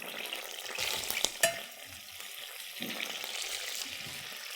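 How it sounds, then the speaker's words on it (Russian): Chicken wings fry in a hot sauce glaze of margarine, hot sauce and salt, a steady close sizzle with stirring scrapes and a couple of sharp clinks, no talking. "И обжариваем"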